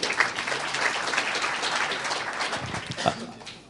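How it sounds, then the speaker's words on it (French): Audience applause at an award ceremony, a steady wash of clapping from a crowd at moderate distance, with a few louder claps standing out. "Vous pouvez l'applaudir."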